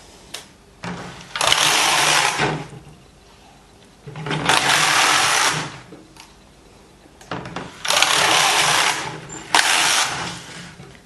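Single-bed knitting machine carriage swept back and forth across a few rows of yarn, three loud, steady mechanical whirring passes with short quiet pauses between them, no talking.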